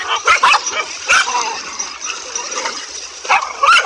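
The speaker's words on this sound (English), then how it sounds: "despite the cobra's valiant efforts, it was just no match for the dogs." Several dogs barking, yipping and whimpering in a frantic scuffle with a cobra, sharp overlapping barks close by with brief pauses in between.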